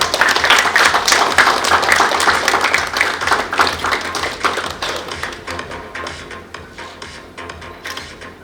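Audience applause at a leadership awards ceremony in Nashik, a dense crowd of hands clapping loudly at first, then thinning into scattered, fading claps.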